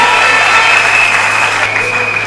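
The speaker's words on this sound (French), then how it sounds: "Que nous acclamons." An audience in a Kinshasa church or assembly applauds to welcome Reverend Godé Mpoyi, steady dense clapping with a faint tonal whistle under it.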